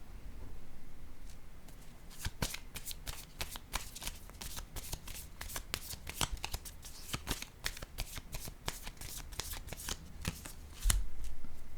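A deck of tarot-style reading cards being shuffled repeatedly, rapid crisp riffling flicks in a busy continuous run, close and clear, with a louder burst near the end and no speech.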